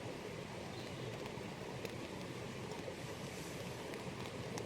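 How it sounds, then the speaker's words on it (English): A river flows near a tent at a campsite, a steady broadband rushing that fills the whole stretch at moderate level with no voices. "Probably mostly what you can hear is the river"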